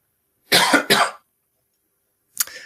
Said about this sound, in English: I only get this cough when I'm doing a live stream or a lecture.